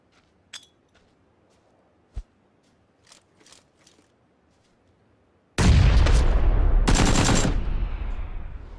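AK rifle fire in the video game PUBG comes after a few scattered faint clicks and thumps, then breaks into a loud, sustained burst of rapid automatic shots lasting several seconds.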